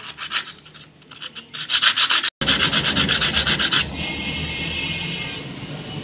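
A motorcycle water pump part is rubbed flat on sandpaper in quick back-and-forth strokes. The rhythmic scraping stays close and fairly loud, breaks briefly, then resumes and settles into a steadier rasp with no talk.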